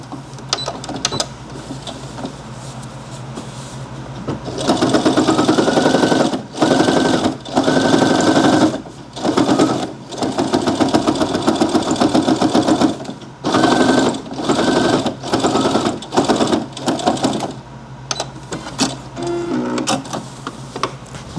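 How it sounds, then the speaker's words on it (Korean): Sewing machine stitching the bottom of a fabric bag, running loud and close in repeated bursts of rapid mechanical whirring separated by brief stops, with quieter handling noises at the start and end. "바닥 재봉"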